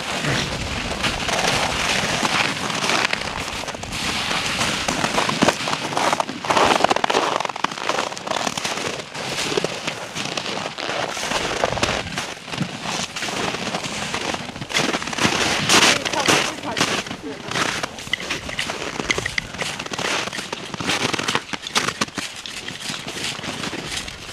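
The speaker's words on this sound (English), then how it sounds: "Fire going. We got a second one started." An outdoor campfire in winter crackles and pops densely and loudly throughout, with voices talking over the fire.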